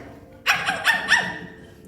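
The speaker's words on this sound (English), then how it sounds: "When Toto barked at the lion" Toto the small dog from a Wizard of Oz stage performance barks four times in quick succession, sharp and fairly close, over a low room background.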